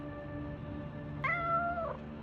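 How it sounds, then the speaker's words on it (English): A cat meows once in a game world, a single drawn-out tonal call that rises and then holds, heard alone over a steady low background hum with no talking. "Hello, cat."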